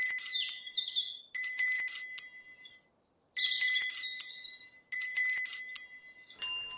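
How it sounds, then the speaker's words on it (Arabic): A bell rung hard and repeatedly by the wolf, bright ringing bursts in four rapid clusters with brief gaps between them, ending in a short different chime, loud and alone. "The wolf took the bell and started to ring it so hard."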